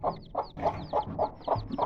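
Newly hatched chicks, a brood of fourteen just out from under a hen, peep in thin, rising chirps over a steady, repeating low clucking, all close and clear.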